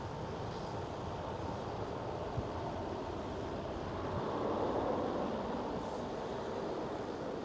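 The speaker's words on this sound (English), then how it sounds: "right away, Singapore Airlines A350-900." Singapore Airlines A350-900 airliner taking off at Schiphol Amsterdam, a steady broad engine roar held at a distance, swelling slightly midway with wind-like rumble and no voices.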